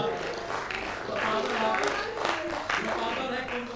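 Audience clapping at a Hindi comic poetry gathering, a dense crowd roar of claps and cheers holding steady, with voices mixed in.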